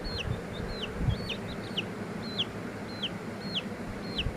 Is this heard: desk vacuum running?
no